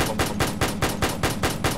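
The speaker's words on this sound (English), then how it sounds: "The slow fire mode" An early-model M1918A2 BAR automatic rifle fires in its slow fire mode, a close, heavy burst of about eight evenly spaced shots at a steady measured rhythm, with no talking.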